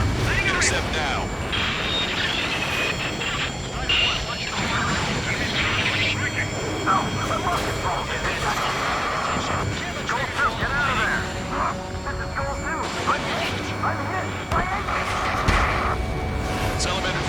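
Jet fighters and fast UAV drones roar through a dogfight in the combat flight game Ace Combat 7, a dense, continuous rush of engine noise and explosions, with radio voices talking over it throughout.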